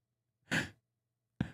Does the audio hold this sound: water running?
no